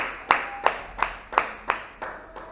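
Church congregation clapping together in a slow, steady rhythm, six sharp claps about a third of a second apart, fairly close with a soft hall echo and no voices between them.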